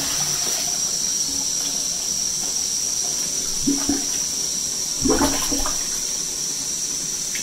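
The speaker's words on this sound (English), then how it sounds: "Flush it again." A toilet flushing after being unclogged, a steady rushing of water with a constant hiss, plus a couple of louder gurgling surges near the end as the bowl drains.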